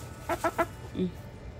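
A few short clucks from a chicken close by, three quick ones in a row and then a lower one, over faint background noise.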